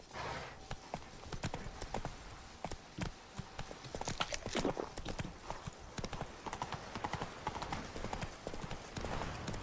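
The horse Roach clops along in The Witcher 3, its hooves beating in a quick, steady rhythm at close range with no speech.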